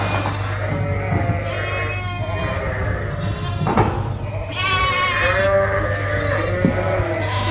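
Lambs on a winter sheep farm bleat repeatedly, several overlapping calls near and far over a steady low hum, with occasional brief human voice.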